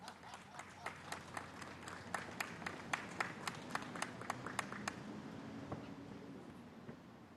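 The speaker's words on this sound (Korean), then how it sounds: "큰 박수 부탁드립니다" At a literary concert at the 2019 Failure Expo, an audience claps in a steady, rhythmic unison beat to welcome the writer Lee Oi-soo to the stage, faint and distant, slowing and thinning toward the end.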